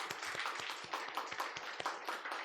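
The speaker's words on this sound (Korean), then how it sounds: "박수하겠습니다." Church congregation clapping in welcome during a Sunday worship service, a sparse, fairly quiet patter of hands with distinct individual claps in an uneven rhythm.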